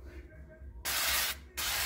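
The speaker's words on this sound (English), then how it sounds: "I'm just gonna spray the top" Cooking spray misted over the top of a chile relleno; two short hissing bursts close to the mic, the first about half a second long and the second briefer, with quiet kitchen background between them.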